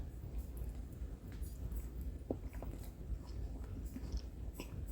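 Quiet, close-up biting and chewing of an enchilada-style burrito with sour cream, soft wet mastication sounds and faint crunches repeating over a few seconds, no speech.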